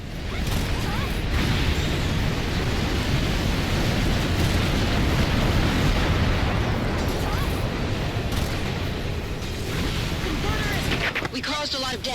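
Air raid artillery explosions in the Earth Defense Force 2025 video game, a dense, continuous roar of booming blasts and rumbling impacts at full loudness for several seconds, easing briefly near the end.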